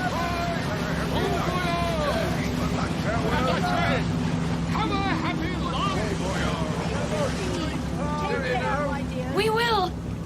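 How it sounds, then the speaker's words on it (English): Ship engines start up in a radio drama effect, a steady low rumble with constant hum running throughout and under voices speaking over it. "Listen, the engines are starting again."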